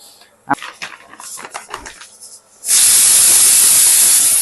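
Tea boiling in a pot on a gas stove: a few quiet clinks and bubbles at first, then a loud, steady rush of hissing steam and rolling boil that fills the last second and a half.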